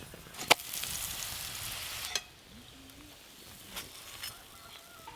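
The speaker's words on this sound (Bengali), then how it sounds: "আবারও একটা মেথি শাকের পরোটা ভাজা হয়ে গেল। খুব তাড়াতাড়ি ভাজা হয়ে যাচ্ছে।" Fenugreek leaf paratha fries in a pan at home, a faint soft sizzle under sharp clicks and clatters of utensils, with a brief hum of a voice in the middle.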